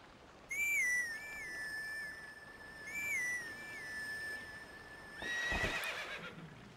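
A melody from Zelda: Twilight Princess played on a grass whistle, a clear whistled melody of repeated rising-falling phrases with held notes, alone, ending under a brief burst of noise.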